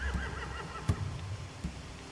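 Horses whinny and neigh in The Walking Dead: The Final Season video game, a couple of short calls rising over a dense, steady game ambience, with a few faint hoof knocks.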